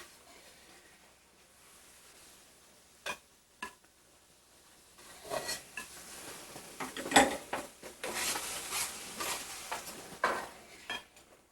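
Sautéed vegetables cooked in clarified butter being moved onto a serving platter in a kitchen, with scattered clinks of utensils against dishes and scraping, growing busier and louder toward the end.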